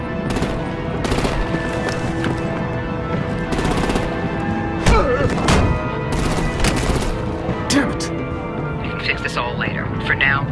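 Rapid automatic gunfire and artillery bursts in the Batman Telltale game, The Pact; loud sustained machine-gun rattles with booms and crashes, interleaved with shouted dialogue and engine noise.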